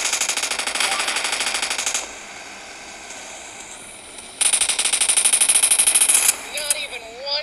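Rapid automatic gunfire from PUBG Mobile rattles loud and close in two long bursts separated by a quieter stretch, with a rising electronic tone trailing the second burst.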